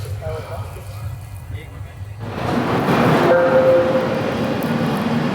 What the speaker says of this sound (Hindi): 9:32 पर हमारी ट्रेन निकली है आनंद जंक्शन से